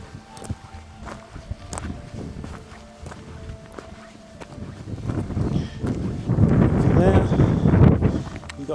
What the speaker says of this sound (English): that wind's getting up again